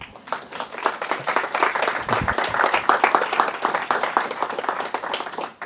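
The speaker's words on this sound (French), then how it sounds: "Vous pouvez vous applaudir." Audience at a LyonJS JavaScript meetup talk applauds steadily, a dense burst of many hands clapping close to the microphone for nearly six seconds with no voices on top.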